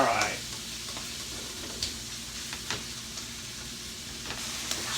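Ground meat crumbled for a sloppy joe casserole sizzles steadily in a hot pan, with soft scrapes and taps as it is stirred and chopped up, close and fairly quiet throughout.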